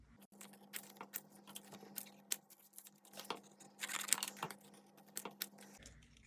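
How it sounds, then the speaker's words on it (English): Watercolor paper cut into small strips, with quiet, rapid crisp snips and paper rustles close by over a steady low hum, no voices. "I'm just going to cut some strips like this."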